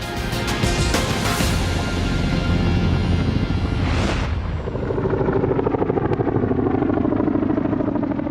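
Chinook helicopter arriving with an Apache escort at Sangin in Helmand Province, Afghanistan, a loud close continuous rotor roar with heavy thumping blade beats and engine whine that swells and shifts as the aircraft closes in.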